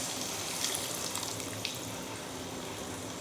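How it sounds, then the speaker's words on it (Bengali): Hot water pours steadily into a pan of spiced fish-roe curry cooking with potatoes and pointed gourd, a continuous close splashing trickle lasting the whole moment. "এবার আমি ওপর থেকে দিয়ে দেবো গরম জল"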